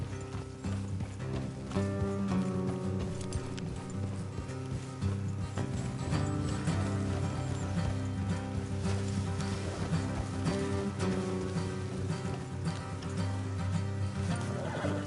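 Horse hooves clip-clop steadily in the video game Red Dead Redemption 2, with faint mechanical creaks and jingles, all quiet under a thick wash of background sound, without any voices.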